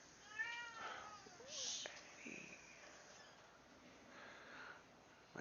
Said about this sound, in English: My cat wants to try and get on stream.